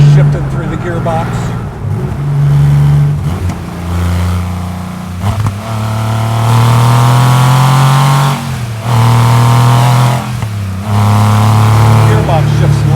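An air-cooled Porsche 993 Carrera RS Clubsport engine shifting up through the gears, loud and close, with rising revs cut by short drops and pauses at each shift.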